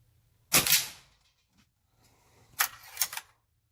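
A Ruger Impact Maxx .22 break-barrel air rifle fired at an indoor range, a sharp crack followed by a brief mechanical rattle, then a pair of quick clacks a couple of seconds later, close and isolated.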